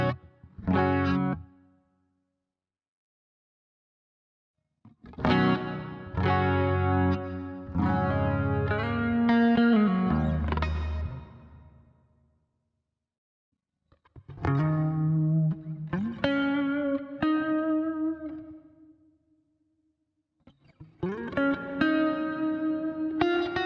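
Guitar played through the regular reverb setting of a Boss GX-100 processor: several strummed chords and sustained notes with a reverberant tail, separated by silent gaps, loud and up close with no talking.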